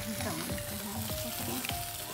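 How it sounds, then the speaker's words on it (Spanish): Fish medallions fry in hot coconut oil, giving a steady close sizzle and bubbling crackle with a faint stirring clink. "yo por mi lado ya estoy sacando lo que es la fritura de los medallones"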